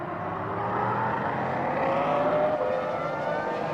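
Formula 1 race car, David Coulthard's McLaren, accelerating on a Grand Prix circuit, a high whining engine note rising steadily in pitch over a few seconds, fairly close and alone without talk.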